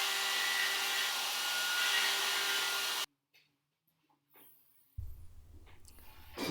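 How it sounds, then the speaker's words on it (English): A router mounted under a tool bench and used as a table router cuts wood with a loud, steady high-pitched whine. It cuts off abruptly, then after a near-silent gap another machine noise starts. "Mounted the router to the underside of the one, and once you put the fence on top with a bunch of feather boards, it works like a table mounted router."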